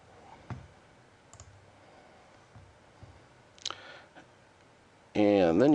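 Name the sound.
computer mouse click saving a file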